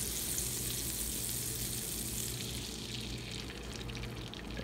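An egg fries in melted butter in a very hot skillet, giving a steady, even sizzle that holds for several seconds, close and alone with no talk.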